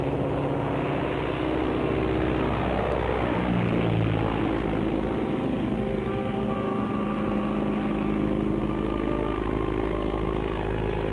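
A propeller airplane drones steadily in flight as a radio-serial sound effect, a loud continuous engine roar with shifting pitch, close and unbroken.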